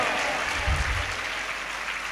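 Hands clapping in praise from a church congregation, a steady dense wash of applause filling the whole moment without a break.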